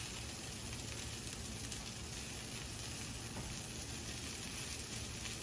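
Asparagus sizzles steadily in a hot frying pan, a constant close hiss and crackle with no pauses and no voices.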